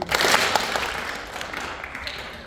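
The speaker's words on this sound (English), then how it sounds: "Clap once if you can hear me" A class claps once on cue, a brief burst of many hands that fades quickly into a scattered trailing patter.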